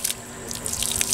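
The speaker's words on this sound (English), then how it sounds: "I can hear that water running out" Water trickles and splashes steadily from a water jug punctured by a .22 bullet, with small drips and gurgles over a continuous faint rush.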